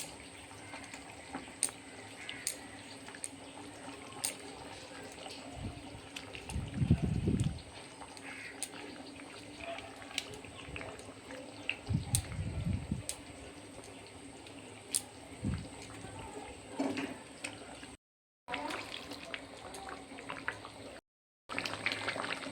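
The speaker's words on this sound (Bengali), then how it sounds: "মাছের ঝোলটা ভালো করে ফুটে গেছে" Rohu fish curry, a vegetarian-style broth made without onion or garlic, bubbling in a pot, with soft liquid burbling that swells in two short bursts amid a low steady background and brief dropouts.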